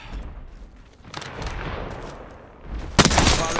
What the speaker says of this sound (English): Firing a smart bolt.